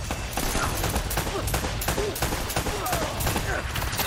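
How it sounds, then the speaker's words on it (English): Enemy gunfire in Uncharted: Drake's Fortune, a sustained barrage of rapid shots and bursts, loud and dense from start to finish with no pause. "And you're shooting me."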